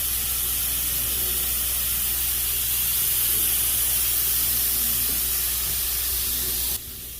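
A sealing sprayer sprays water inside a house, giving a loud, steady hiss with a constant machine hum beneath it, then cutting off abruptly at the end.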